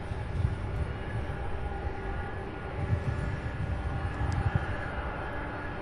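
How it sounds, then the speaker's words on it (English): A UPS cargo jet taking off at Louisville's SDF airport, a steady broad engine roar that holds at an even level throughout, heard from a distance with no voices. "this next one taking off is UPS 2998 heading to Anchorage, Alaska"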